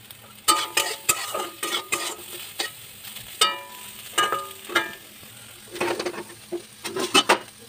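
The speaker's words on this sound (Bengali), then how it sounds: "তো এটা আমি জোর দিয়ে ভেজে নেব" Soybean chunks with a little salt frying hard in a pan, stirred vigorously with a spatula: close, uneven bursts of scraping clacks and clatter over a soft, steady sizzle, with no voices.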